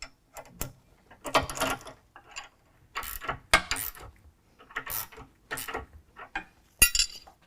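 Ratchet wrench snugging a nylock nut on a sway bar end link during a lift kit install on a 2018 Jeep JL 2-door, with repeated bursts of quick metallic clicking separated by short pauses, close and fairly quiet.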